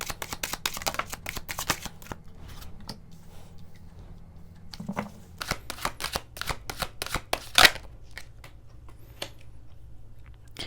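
Tarot cards being shuffled and drawn, heard as rapid dry flicking and riffling in dense bursts with a few sharper taps, close and fairly quiet, with no talking.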